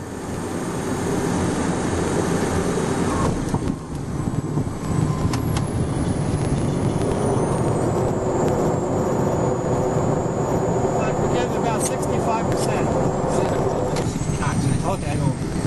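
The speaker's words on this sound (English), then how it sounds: "Now he's going to give full reverse thrust with the TR." A Cessna Citation II jet on its landing rollout gives a loud, steady, broadband roar of reverse thrust inside the cockpit, with cockpit talk over it.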